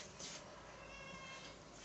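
A house cat gives a faint, thin meow indoors, partly buried under a constant hiss of background noise.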